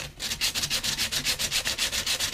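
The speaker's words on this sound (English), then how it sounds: "for the past hour or so, I've been sanding" Wood is sanded by hand in fast, even back-and-forth strokes, each one a close, loud raspy swish, repeating about six times a second.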